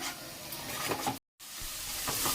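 Ingredients sautéing in a pan for a mackerel fish curry, a soft continuous sizzle with occasional stirring scrapes, close but fairly quiet, broken by a brief moment of silence midway.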